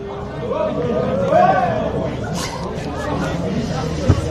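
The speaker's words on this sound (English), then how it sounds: "A few beers in the crowd I can hear" Crowd at a local Australian rules football match between Golden Grove and Broadview in the Adelaide Footy League, a steady murmur of chatter and babble with a brief swell of voices and a sharp thud near the end.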